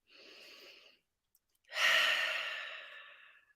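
Deep breathing during a guided meditation: a short inhale followed by a long, loud exhale trailing off slowly, close and alone.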